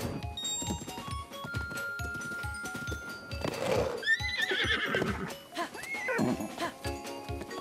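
Epona, a horse in the game Breath of the Wild, neighs in a loud, wavering whinny midway through, over busy clip-clopping hooves and game sounds, with a second shorter whinny following.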